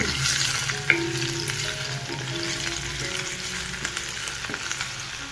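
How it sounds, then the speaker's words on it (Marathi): Chopped onion sizzles in a pan with garlic that has been roasted until browned. The frying is steady and close, broken by a few scraping stirs and small clinks from the utensil, and there is no talking. "याच्यात आपण टाकूया कांदा पण चांगला आपण परतून घेऊ।"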